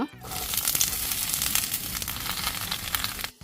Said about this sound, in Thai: เราตั้งไฟจนกระทั่งน้ำมันพืชร้อน ใส่กระหล่ำปลีและแครอทลงไปปริมาณตามต้องการ